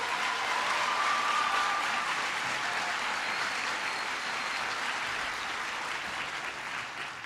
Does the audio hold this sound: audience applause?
yes